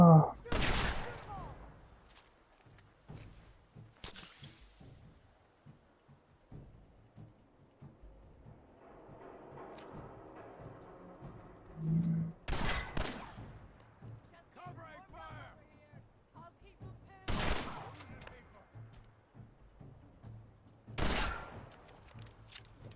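Shotgun blasts from enemies in Fallout 4 crack out in sharp, scattered bursts, some loud and close, others fainter, spread across the stretch with quieter rustling and game ambience between them.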